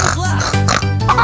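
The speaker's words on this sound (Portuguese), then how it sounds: "É o porquinho sapeca." A pig gives three loud, close oinks in quick succession, with short grunting bursts.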